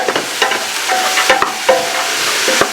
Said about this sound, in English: we're just going to sweat these veg now